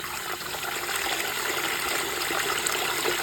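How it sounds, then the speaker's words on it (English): A SHYSKY DC50A-2450S fixed-speed DC water pump runs with a constant rushing, splashing water flow, loud and unbroken throughout. "Now it is the real performance of this fixed power pump"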